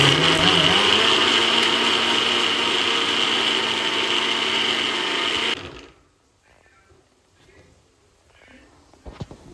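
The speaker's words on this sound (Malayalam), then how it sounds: "ഇത് നമുക്ക് അരച്ചെടുക്കാം നല്ല വെണ്ണ പോലെ അരച്ചെടുക്കാം" A mixer grinder whirs loudly and steadily as it grinds garlic, cumin and mustard into a smooth paste, then cuts off abruptly, leaving quiet room sound and a few faint knocks.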